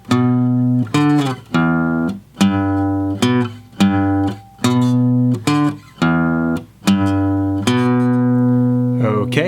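Guitar picks out the bass line of a song's intro: a clean, bright run of single plucked notes in a steady repeating pattern, each ringing briefly before the next, played alone and close.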